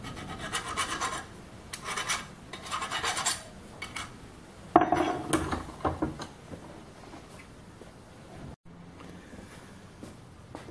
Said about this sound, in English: we'll just put a little chamfer on the edge with a file